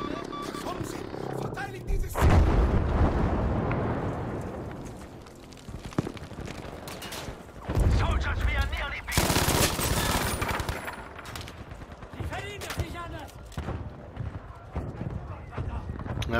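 Bursts of machine gun fire from a player manning an MG in the Battlefield V shooter, loud rattling volleys with heavy battle noise between them and a voice talking over the action.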